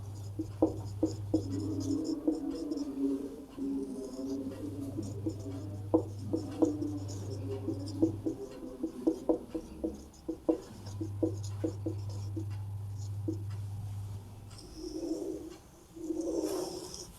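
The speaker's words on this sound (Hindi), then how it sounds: "इसके लिए मैं इसका सूत्र लिख देता हूं।" Pen scratching out a maths formula on paper in quick, irregular strokes and taps, with pigeons cooing in the background in long repeated calls.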